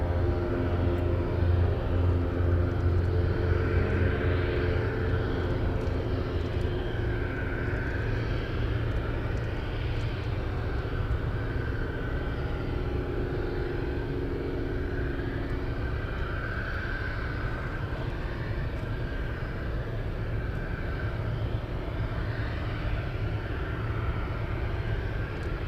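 A Boeing 747 cargo plane passing at an airport in Anchorage: a steady, loud, low engine roar with a broad rushing hiss and slowly shifting tones, sustained throughout without talk.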